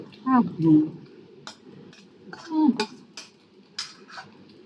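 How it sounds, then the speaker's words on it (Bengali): A metal kadai set down and put away in a home kitchen, with a couple of loud clattering knocks of dishes and pans amid background chatter and faint clinks. "কড়াইটা রেখে দিয়ে আসি।"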